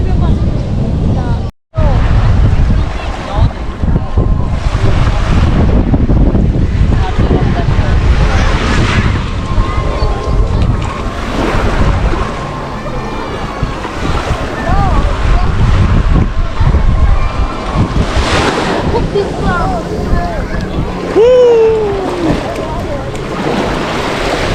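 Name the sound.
wind blowing at the sea shore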